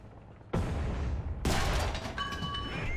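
A tank cannon fires at a Japanese tank in War Thunder, aboard a T-50 at the docks, with two heavy booming blasts about a second apart and rumbling gunfire and engine noise continuing between and after them.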